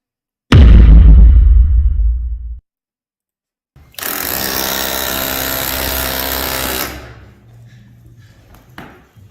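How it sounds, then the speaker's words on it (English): An automatic hammer that vibrates to drive a nail flush: a loud, close burst of rapid mechanical tapping, then after a short pause a steady, harsh buzzing run of about three seconds that stops abruptly. "So this thing just mini taps the nail all the way in."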